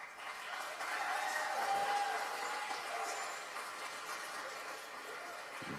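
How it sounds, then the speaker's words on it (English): Audience applause welcoming a speaker onto the stage at an ideas summit in Gander, a moderate, steady wash of clapping with faint crowd noise, swelling early and then holding at a slightly lower level. "can you please give a warm welcome, a round of applause for Frank as he comes up?"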